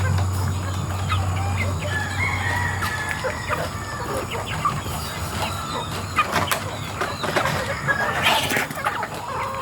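Free-range native chickens cluck and squabble close by in a farmyard, a steady run of overlapping clucks and calls over constant outdoor noise.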